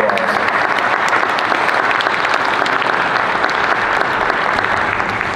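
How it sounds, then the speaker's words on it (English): An audience gives loud, sustained applause as panelists come up to a stage, dense clapping filling the hall evenly from start to finish. "if you would give them a big round of applause"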